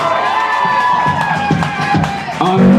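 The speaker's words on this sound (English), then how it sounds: "Give him a round of applause." A live concert crowd at The Outpost cheers and applauds after the bassist is introduced, a lively mix of claps, shouts and whoops with a voice rising over the noise.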